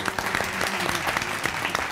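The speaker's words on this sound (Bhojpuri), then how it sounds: "तालियां हो जाए एक बार" A studio audience on a Bhojpuri family TV show claps in a dense, steady burst of applause, many hands close together with no pause.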